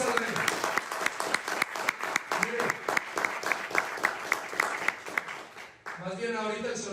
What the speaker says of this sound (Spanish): Denle palmas al Rey.